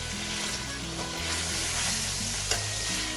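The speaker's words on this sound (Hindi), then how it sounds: "मसालों को मीट के अंदर अच्छी तरह से भूनना है।" Spices and meat frying for aloo gosht, a steady close sizzle with stirring scrapes and a sharp clack near the end, alone with no voices.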